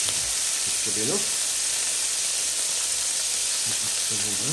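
Beaten eggs sizzle steadily in a hot pan, a continuous loud frying hiss, with a couple of brief low clinks or voice fragments underneath.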